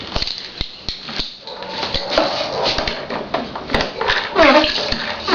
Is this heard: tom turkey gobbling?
no